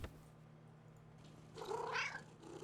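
A cat in the horror video game Demonologist gives a short, faint meow that rises and falls over about a second, heard alone against a quiet low background hum.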